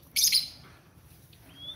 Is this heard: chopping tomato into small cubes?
no